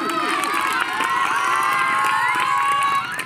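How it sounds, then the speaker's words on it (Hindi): Children in a school quiz game modelled on KBC cheer and shout loudly for a contestant who answered correctly, a dense, continuous crowd roar that fades only slightly at the end. "रुस्तम कुमार के लिए जोरदार ताली बजाइए"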